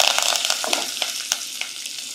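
Urad dal, dry red chilies, a pinch of asafoetida, green chilies and curry leaves frying in hot oil for bendakaya pulusu, a steady crackling sizzle with sharp pops scattered throughout, close and alone.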